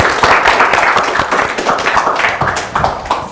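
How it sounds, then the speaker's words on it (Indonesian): A studio audience claps to welcome a guest onto a TV show stage, a loud, close burst of many rapid hand claps that continues steadily throughout without speech. "tepuk tangan"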